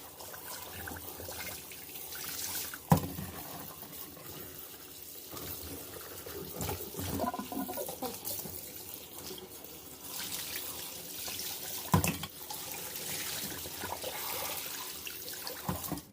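Mushrooms are washed under a running tap, with water trickling and splashing steadily into a sink. Occasional louder splashes and knocks break the flow.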